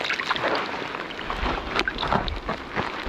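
Cold spring water trickles and splashes over rocks near a hillside bushcraft camp about 500 meters up, a close, uneven babbling with small bright splashes and light wind on the microphone.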